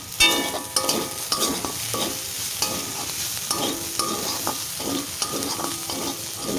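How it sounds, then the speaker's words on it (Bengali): Mixed winter vegetables frying in a kadai for spicy semolina (jhal suji), stirred with a spatula in steady repeated scrapes over a continuous close sizzle, with no talking. "প্রায় আমার সমস্ত কিছু একসঙ্গে ভাজাভুজি হয়ে গেছে, দেখতে পাচ্ছ কড়াইতে লেগে লেগেও যাচ্ছে"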